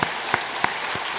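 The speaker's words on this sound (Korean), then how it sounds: "우리 한번 박수로 축복하겠습니다" A church congregation at a Sunday service applauds to welcome a visitor, giving a close, continuous patter of many hands clapping with a few louder individual claps standing out.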